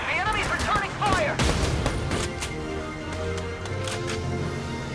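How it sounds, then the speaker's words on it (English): Enemy gunfire in the video game Valkyria Chronicles 4: a burst of rapid shots and impacts up front, then a steadier stream of firing and battle noise continuing throughout. "They're firing on us! Ow. The enemy's returning fire!"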